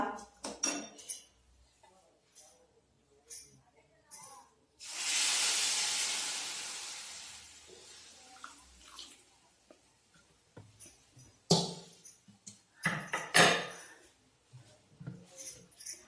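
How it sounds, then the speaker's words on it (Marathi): Heated water tipped into peanut chutney in a pan gives a loud hissing, steamy burst lasting a few seconds, with spoon scrapes and clinks of utensils before and after. "चटणीमध्ये गरम केलेले पाणी टाकूया"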